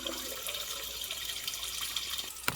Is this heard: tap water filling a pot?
yes